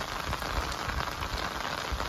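Heavy monsoon rain pours onto surfaces at a village farm house, a dense, continuous hiss and patter close by, steady throughout with no voices.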